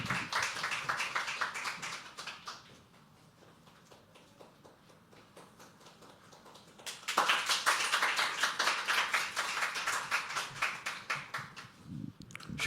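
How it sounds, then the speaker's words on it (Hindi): An audience claps at a poetry open mic, first a dense burst, then a quieter spell of scattered claps, then a second loud round of applause. "तालियां बजती रहनी चाहिए"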